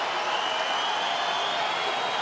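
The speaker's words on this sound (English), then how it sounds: "Crowd showing its appreciation for their homegrown champion." A large arena crowd at a UFC 301 fight applauds its homegrown champion, a continuous dense wash of clapping and cheering held at an even level throughout, broad and enveloping without distinct individual claps.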